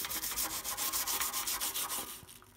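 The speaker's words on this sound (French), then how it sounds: "Et là, j'ai juste à venir frotter avec ma brosse." A brush scrubs grime off an air compressor in quick back-and-forth strokes, a close, rhythmic rasping scrub of about a dozen strokes that tails off at the end.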